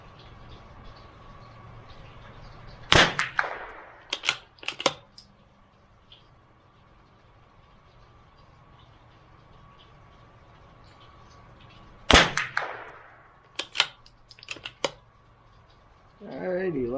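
A CZ 457 MTR .22LR bolt action target rifle fires at a 50-yard range: two sharp cracks spaced well apart, each followed by clicking bolt cycling and handling noises, over a quiet outdoor background.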